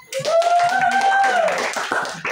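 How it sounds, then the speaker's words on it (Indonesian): A school class claps together after a lesson's answers, a burst of brisk clapping under a teacher's voice that fades out before a brief tap at the end. "Mantap semua jawabannya ya, kita tepuk tangan."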